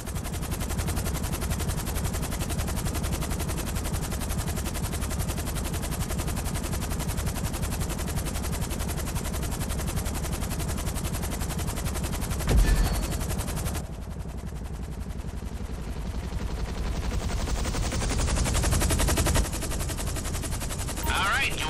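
Sustained automatic gunfire from a private army of well-armed Texans in GTA V, a dense, loud and continuous rattle across the whole stretch, with a brief dip partway through.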